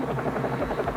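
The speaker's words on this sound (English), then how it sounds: "helicopters" A helicopter's rotor drones as a continuous low, throbbing rumble with steady pulsing, moderately loud and with no voices over it.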